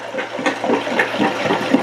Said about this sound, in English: You can really hear it sloshing around.